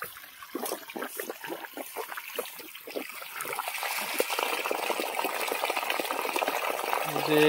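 Water gushes from the outlet of a 5 hp Rotomag solar pump on a cloudy day, a steady close rushing and splashing that starts patchy and grows fuller and louder.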